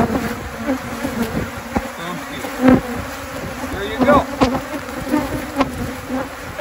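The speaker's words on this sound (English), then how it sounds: "This is what it's like working Africanized bees." A dense swarm of Africanized honey bees buzzing loudly and continuously, with individual insects whizzing close past the microphone.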